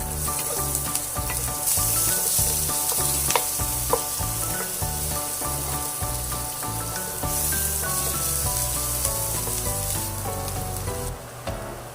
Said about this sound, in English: On the same pan, sauté garlic and onion.